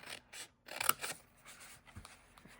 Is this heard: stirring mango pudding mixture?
no